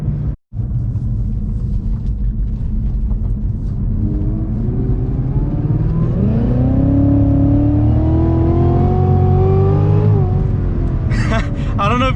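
A 640-horsepower Cadillac CTS-V pulls hard from low revs, its engine note climbing steadily in a loud, rising roar over several seconds before easing off, heard from inside the car with a brief dropout near the start.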